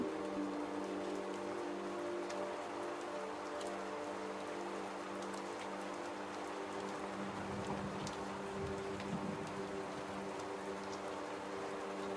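Storm rain falls steadily in the video game Rue Valley, an even, soft hiss of drops pattering on surfaces that holds unchanged throughout, faint and with no one speaking.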